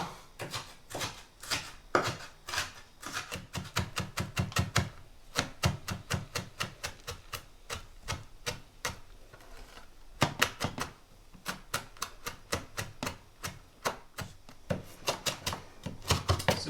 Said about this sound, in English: green chilies would be chopped very fine in a similar way